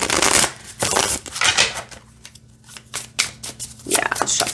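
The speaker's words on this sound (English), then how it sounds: "it shuffles just like any other Los Scarabeo deck" Los Scarabeo-style tarot deck of decent cardstock being riffle-shuffled by hand, several quick rustling bursts of flicking cards separated by short pauses, close and clear.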